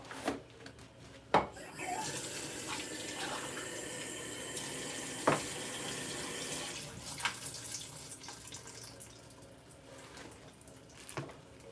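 Water runs from an indoor tap as a faint, steady stream being collected, with a couple of sharp clunks of handling and no talking.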